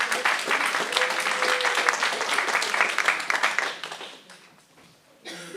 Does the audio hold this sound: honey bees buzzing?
no